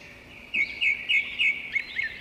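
A cartoon bird chirps in a quick series of five or six bright, evenly spaced tweets, clear and close, with nothing else heard.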